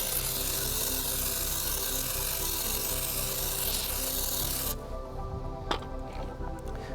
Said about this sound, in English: it's nice and long, so you could get deep into the barrel where there's a ton of brake dust building up